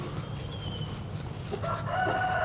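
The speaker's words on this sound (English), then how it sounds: "some chickens over here." Chickens cluck and a rooster crows along a street near An Bang Beach in Hoi An, the calls fairly close and rising toward the end over steady outdoor background noise.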